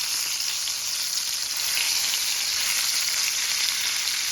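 Fresh sardines fry in a pan with a dense, continuous, bright sizzle, close and fairly loud, as a spatula turns them without distinct knocks.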